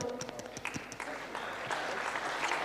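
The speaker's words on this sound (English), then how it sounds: "Another round of applause for Prideful Clyde" Scattered clapping from students at a school assembly, a few distinct claps at first that swell into fuller, continuous applause, fairly close and moderately loud.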